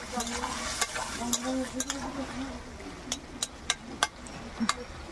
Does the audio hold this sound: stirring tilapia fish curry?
yes